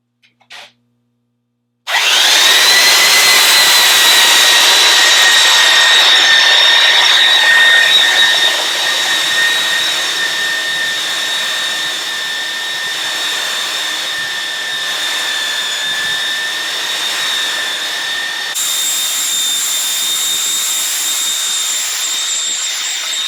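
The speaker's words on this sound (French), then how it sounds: "Donc, quand on ponce avec la 324, on est constamment en mouvement." A Festool 324 belt sander starts abruptly and runs loud and steady, a high whine with a constant gritty hiss as it moves back and forth over wood, the pitch shifting slightly partway through.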